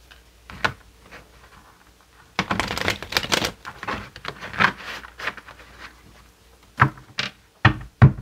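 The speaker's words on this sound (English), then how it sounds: "Just going to shuffle the cards a few times here" Tarot cards being shuffled up close: soft riffling and flicking in irregular bursts, with a few sharper taps and pauses between.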